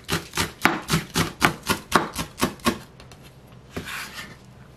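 A knife finely chops small green onion on a cutting board, about a dozen quick, evenly spaced taps in a steady rhythm, close and clear, then a pause and one softer knock.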